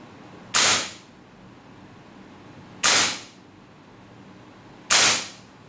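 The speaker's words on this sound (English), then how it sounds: "We use the .2 BB and green gas. And switch to the semi-fire." AST WE SMG8 airsoft gun fired semi-auto on green gas with .2 BBs: three sharp, loud single pops spaced about two seconds apart, each with a quick decay and quiet between shots.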